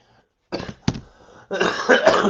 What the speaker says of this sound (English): Get rid of this cough